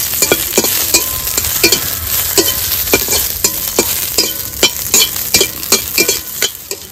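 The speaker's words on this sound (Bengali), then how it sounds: "এবার শুকনো লঙ্কা ভেজে নেবো।" Dried red chillies frying in oil with salt in a pan: a steady, close sizzle with regular scraping strokes of a stirring spoon against the metal throughout.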